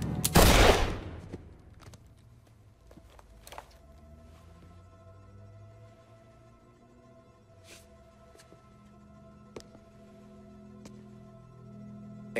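Gunfire in the Mafia 3 video game: one loud, close burst of shots opens, followed by scattered faint distant cracks over a low, humming game backdrop.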